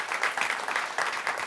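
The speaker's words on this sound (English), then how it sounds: "Let's give them a big round of applause." An audience gives a round of applause as two crypto industry guests are welcomed onto a conference stage, dense steady clapping throughout with a few louder swells, no voices over it.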